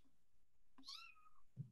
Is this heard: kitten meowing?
yes